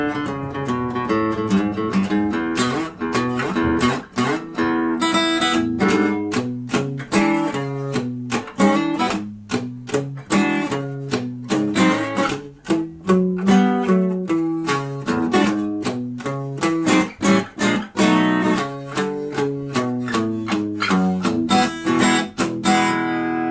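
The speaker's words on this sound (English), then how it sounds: "I'll play this next section at a slow tempo for you so you can kind of see what I'm doing" A boogie tune played on guitar at a slow tempo, a bouncy boogie pattern of plucked bass notes and chords with sharp percussive attacks, heavy on the downbeat, loud and without talk.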